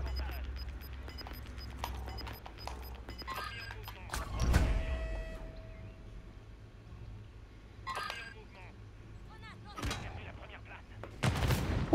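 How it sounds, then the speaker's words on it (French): A grenade blast in Call of Duty Modern Warfare 3 lands as a single heavy, booming burst midway, set among scattered sharp gunshots and battlefield noise, with a few more bangs near the end. "ça a envoyé une grenade"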